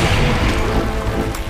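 Grenade explosion in the Resident Evil 2 remake, a loud close blast with a rolling boomy tail lasting over a second.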